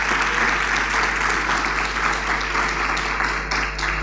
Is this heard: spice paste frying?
no